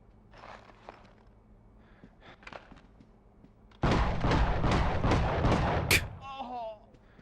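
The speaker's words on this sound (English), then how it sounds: "Oh, flash grenade." A flash grenade detonates in The Sum of All Fears video game on PS2: a sudden loud, broadband burst that holds for nearly three seconds with crackling texture, then cuts to a high ringing whine as it fades.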